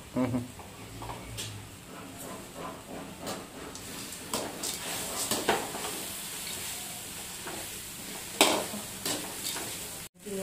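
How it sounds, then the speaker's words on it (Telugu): Toor dal frying in a spoonful of oil in a pan, with a soft ongoing sizzle broken by repeated scraping and clinking stirring strokes, close by and moderately loud, with a sharp clatter near the end. "స్పూన్ నూనె వేసుకొని బాగా వేయించుకున్నామంటే ఎర్రగా కందిపప్పుని"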